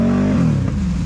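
A Can-Am Renegade 1000 XMR ATV revs hard while stuck in thick mud, a loud, close engine roar whose pitch rises and then sags over about a second.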